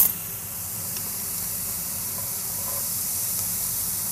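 Chopped onion hits a hot pan of garlic-ginger paste, and a steady, bright hiss of sizzling carries on evenly at close range.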